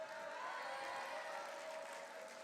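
Sustained applause from an audience at an awards ceremony for a mini-enterprise festival, an even wash of many hands clapping, steady and fairly distant, with no one talking over it.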